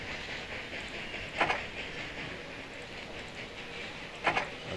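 Trains run in the video game Railroad Tycoon II, a steady rolling rail clatter with two sharp clanking bursts spaced a few seconds apart over the continuous hum.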